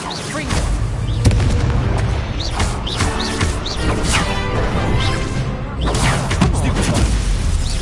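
Repeated spell explosions in the Hogwarts Legacy video game, loud booming blasts and crashing impacts with whooshes over a dense, continuous action soundscape, with a voice shouting over the fighting.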